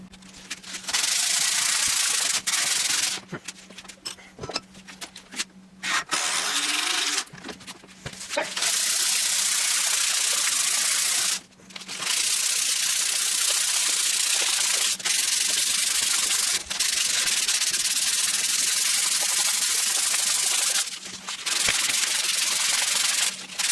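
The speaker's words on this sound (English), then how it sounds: "we'll just get the sandpaper, round her over" Sandpaper rounding over the edges of a carved-top Telecaster guitar body by hand, a loud, continuous close-up rasping scrub broken by several brief pauses and no talk.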